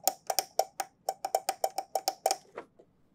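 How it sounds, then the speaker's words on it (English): A rapid series of sharp clicks and creaks from the thin plastic case of a cheap TKL keyboard bending, close and fairly loud, tapering off into a few softer ticks at the end. "No, that's the sound of plastic bending."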